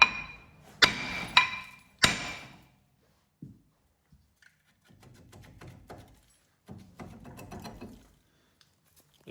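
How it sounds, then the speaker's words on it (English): Several sharp metallic hammer blows ring out on a rusted front brake rotor of a Hyundai Elantra, a quick cluster of loud strikes followed by softer clunks and rattles as the rotor loosens. "to get the rotor off, all you do is you grab a hammer"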